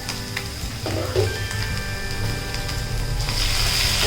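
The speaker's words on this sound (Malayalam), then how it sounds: "ഇനി നമുക്കിതിലേക്ക് തക്കാളി ചേർത്ത് കൊടുക്കാം." Chopped tomatoes drop into a pan of softened onions frying in oil, for a mushroom roast, giving a steady, fairly loud sizzle with a brief stirring clatter near the start and the frying growing brighter toward the end.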